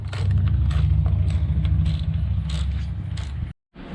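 A ratchet on a long extension clicks quickly and repeatedly while backing out bolts on a Honda Rebel 500 motorcycle, loud and close, then stops abruptly before a brief return.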